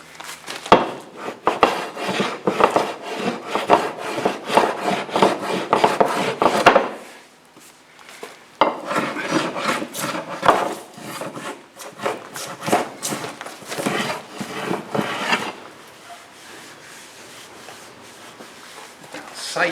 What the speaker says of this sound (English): I'm just going to sand it smooth again.